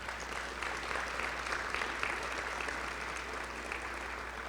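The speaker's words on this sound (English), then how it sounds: "Please give her a hand." An audience at a Hall of Fame induction ceremony applauds, giving steady, dense clapping that holds for several seconds, fairly loud and even.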